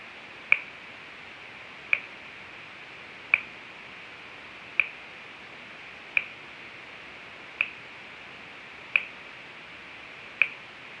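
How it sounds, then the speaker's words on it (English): Eight sharp hand claps count time like a metronome, evenly spaced about every second and a half, each crisp and fairly near, heard alone over quiet room noise. "The clap counted you off and clap in time, so you can kind of use that as a metronome"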